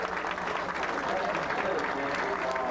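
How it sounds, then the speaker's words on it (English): Crowd applause at a high school football game after an injured running back gets up, a steady wash of clapping and cheering from the stands under an ongoing announcer voice. "Nice round of applause for Dustin Sizz"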